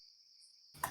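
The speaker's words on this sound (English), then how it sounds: "Yeah, the crickets are great right now." Crickets chirping in a steady high trill, faint and continuous, with a sudden louder noise at the very end.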